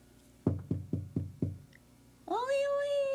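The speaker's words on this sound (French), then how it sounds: "quand il entendit frapper à la porte" Five sharp knocks on a wooden door in a 1978 French children's television show, evenly spaced and fairly loud, followed by a sustained, bright animal-like meowing call.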